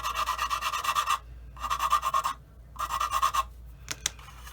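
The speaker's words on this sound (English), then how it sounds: "So basically I'm going to use a sander for the really heavy stuff." Power sander fitted with 320-grit paper working over a plastic 1/48 F-15C model kit, three loud raspy bursts of about a second each separated by short pauses, then a couple of sharp clicks, with no talk.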